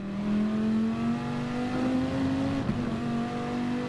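Viper GT3-R race car engine holding third gear at Interlagos in a racing video game, a loud steady droning whine that climbs gradually in pitch, dips briefly, then pulls on again.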